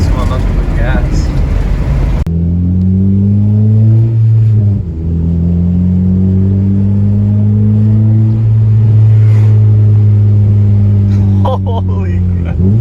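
A Honda Civic Si fitted with a Skunk2 exhaust starts with a rough burst, then settles into a loud, deep, steady engine drone close by, dipping once as the revs drop and climbing again, with voices heard over it.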